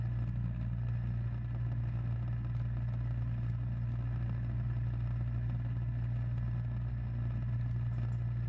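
A Yard Machines two-stage gas snow thrower runs steadily while clearing a four-car driveway, its engine holding a constant low droning hum with a dense mechanical rumble, close and unbroken throughout.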